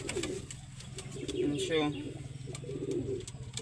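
Pigeons coo close by in a racing pigeon loft, soft throaty rolling calls repeating under a man's brief speech, with light chirps and rustling around them.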